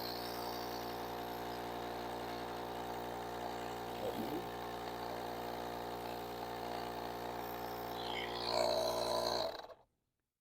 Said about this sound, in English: then you can press the trigger and it starts pumping